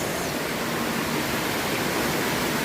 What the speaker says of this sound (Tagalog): grabe ng baha oh